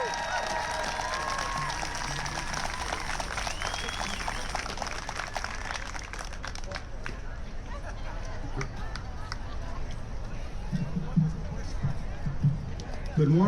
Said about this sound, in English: Let's give Noel a round of applause.